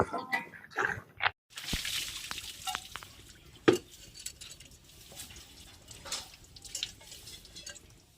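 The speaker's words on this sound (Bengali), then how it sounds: "দিয়ে দিচ্ছি জল।" Water is poured into a metal pot set on the stove for steaming idli, with splashes and metallic clatter in bursts and gaps between them. A person talks in the clip.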